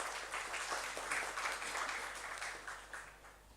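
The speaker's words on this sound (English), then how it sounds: "A warm round of applause for Mr. Pradhan, please" A faint, distant round of audience applause for a memorial lecture speaker, steady soft clapping with a low hum underneath.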